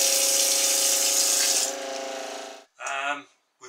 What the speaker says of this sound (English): What's the noise? The pump. So we're filling it with water.